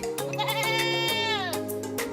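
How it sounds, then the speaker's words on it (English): A goat lets out a loud, wavering bleat close by, its quavering pitch sliding up and back down over about two seconds, with faint background noise and no talk. "we're learning all about goats."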